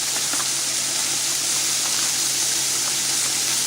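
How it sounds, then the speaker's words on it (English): Water poured into a pan of lamb jalfrezi with chillies, a steady broadband gush running evenly and loudly for the whole stretch with no voices. "Now we're going to get some water in there now."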